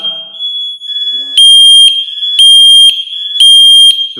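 FireAngel Wi-Safe 2 networked fire alarms sounding during a test, a piercing high-pitched tone pulsing in three loud repeated bursts, with further units sounding nearby in the network.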